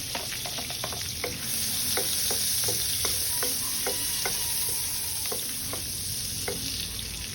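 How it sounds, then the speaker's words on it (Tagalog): Garlic sautés in crab stick butter in a pan, sizzling steadily while a spoon stirs and scrapes in repeated taps, close and fairly loud with no talking. "And then saute the garlic."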